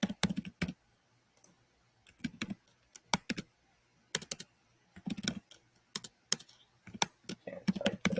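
Quick bursts of typing on a computer keyboard come in short irregular clusters, with quiet pauses between them, close and soft.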